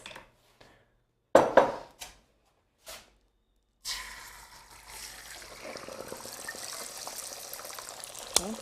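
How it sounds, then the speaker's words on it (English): Beaten eggs poured into a hot pan set off a steady sizzle that starts abruptly and keeps going at moderate volume, after a few scattered kitchen clatters and knocks. "think it's time to put the eggs in the pan."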